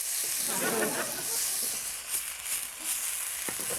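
Turkey curry stir-frying in a hot pan gives off a steady, loud sizzling hiss throughout, with faint voice sounds under it.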